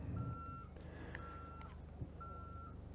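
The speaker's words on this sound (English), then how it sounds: "I didn't know I was on a buzzer." An electronic buzzer sounds three steady, evenly pitched tones of about half a second each, faint against a quiet indoor background.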